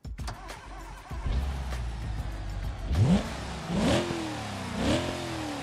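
A video game car fitted with sport exhaust pipes revs, moderately loud, with several rising-and-falling engine sweeps in the second half after a rougher, quieter start; no talking.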